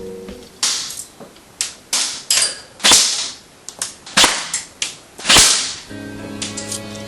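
A JG Snow Wolf M99 airsoft sniper rifle firing 0.3 gram rounds gives a string of roughly a dozen loud, sharp snapping shots at irregular intervals, close up, with no talk.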